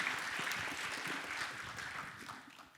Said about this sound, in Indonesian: Mari sekali lagi berikan tepuk tangan yang paling meriah.